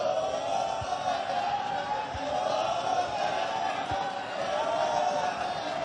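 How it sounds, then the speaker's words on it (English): A stadium crowd in a football video game chants olés, a sustained, swelling roar of many voices rising and falling in a loose rhythm, loud and continuous throughout. "You can hear the crowd as well. They're giving him the oles."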